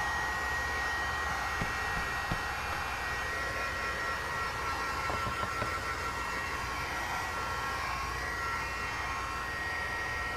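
A handheld heat dryer blows to dry orange paint on a mixed media collage for artist trading cards, giving a constant loud whooshing hum that holds steady from start to finish.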